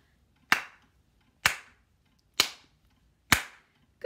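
Four sharp, evenly spaced hand claps in a quiet room, each one crisp and short with a brief decay and roughly a second between them.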